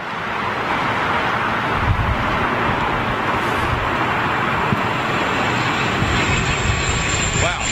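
Airliner jet engines roaring steadily at a windy Heathrow, a continuous broadband rumble with wind buffeting throughout and a faint high whine emerging toward the end.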